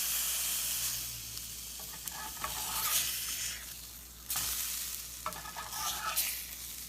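Crackling, hissing sizzle of sausage frying in a pan, steady with bursts of sharper spitting, close up and without talk.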